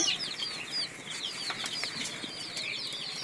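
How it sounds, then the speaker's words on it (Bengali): Native desi chicken chicks about twelve to thirteen days old chirp and cheep continuously in a high, bright chorus, with occasional soft flutters and clatter nearby. "কিছু দেশি মুরগির বাচ্চা আমাদের এইখানে এসে রয়েছে"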